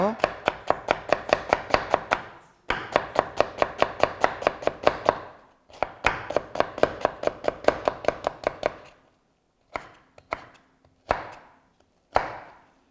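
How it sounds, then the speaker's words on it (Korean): A knife julienning radish on a cutting board for Korean temple food, in fast, steady bursts of close, crisp chopping strokes separated by short pauses, with sparser single cuts toward the end. "이렇게 해서 무 채 썰어 주시고요"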